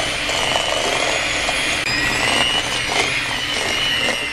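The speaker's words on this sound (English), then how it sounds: "Our next step is to just cream all this in an ordinary mixer." Electric mixer creaming a gorgonzola mixture for pear crostini, a steady loud motor whir running unbroken throughout with no talking.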